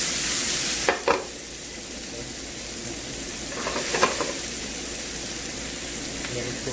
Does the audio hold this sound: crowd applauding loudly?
no